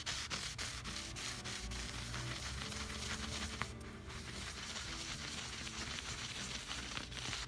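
Steady rubbing as wood stain is worked into an ebony fingerboard on an Ovation Deacon guitar neck, a close, continuous soft scrubbing with faint brushy texture and no talking.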